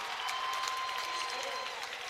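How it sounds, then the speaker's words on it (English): At a high school sectional basketball game, a crowd's faint, distant murmur and scattered clapping rise after an offensive foul call, heard under a commentator's voice. "And the Waltonville crowd not happy with that call"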